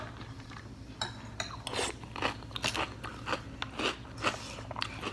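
A crunchy cinnamon snack is bitten and chewed right at the mic, giving a series of sharp, crackly crunches in an uneven rhythm with no one speaking.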